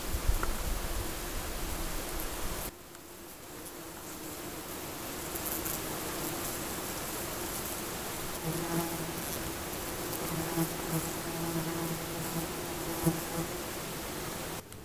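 Bumblebees buzzing while pollinating flowering linden trees outdoors, a steady continuous drone of many insects with individual wingbeat hums rising and falling as bees pass close, over a soft rustling background.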